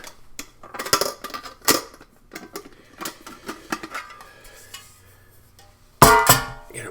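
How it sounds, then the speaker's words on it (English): Metal cutlery and a mess tin clatter and clink in irregular bursts of close, sharp taps, with a louder jangling rattle near the end. "Sorry about the cutlery."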